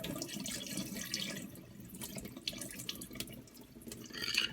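Water runs and splashes as it is poured off basmati rice being washed in a sink, a soft continuous gurgling stream with uneven bursts of liquid.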